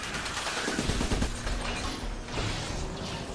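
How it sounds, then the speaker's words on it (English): A shotgun turret firing in the video game Trenched, producing rapid mechanical bursts of gunfire with clattering, ratcheting texture over a steady noisy background, loud and close. "Okay, shotgun turret needs to go here."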